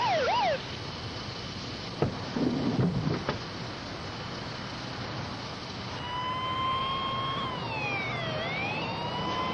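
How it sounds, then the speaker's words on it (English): Rescue unit sirens wail, rising and falling over steady wind-like rumble at a drainage ditch flood, with a second siren tone sweeping in later, fairly distant. "Hearing the sound of sirens, Rick drove toward them"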